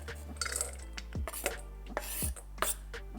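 A few crisp knife chops on a board as bread is cut into small pieces, spaced irregularly and close by, with light clinks of utensils between them in a quiet kitchen.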